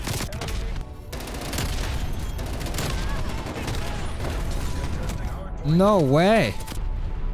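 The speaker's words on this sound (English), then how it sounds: "the artillery hit me right on the head" Chaotic gunfire and artillery blasts rattle through a Black Ops Cold War Hardpoint match on Nuketown, with dense bursts of shots and booms throughout, a rising-falling siren-like tone near the end and a player speaking briefly.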